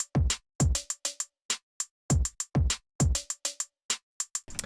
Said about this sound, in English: It's gonna sound like this with the hi-hat.